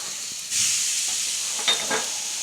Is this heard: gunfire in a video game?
no